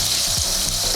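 Mirepoix aromatics sizzle in rendered fat, a steady bright frying hiss with a few soft stirring movements, close and continuous over a short stretch with no talk.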